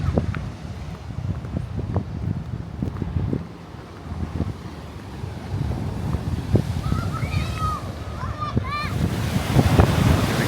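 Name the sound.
ocean waves splashing against seawall after hurricane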